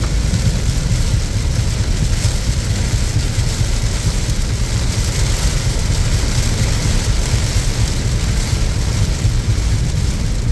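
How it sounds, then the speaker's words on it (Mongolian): Heavy downpour on a highway, a loud, dense, unbroken roar of rain with possible traffic wash mixed in, steady throughout with no voices. "ер нь бол их ширүүн бороотой байна"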